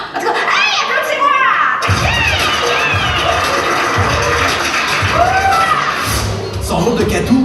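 A youth gala audience cheers and shouts loudly with applause mixed in, many young voices rising together in an excited, continuous roar, with an announcer's voice briefly audible at the start.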